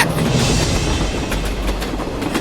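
A train rumbles steadily along the rails with a dense, continuous roar and faint rhythmic clacking, heard up close from inside or beside the carriage.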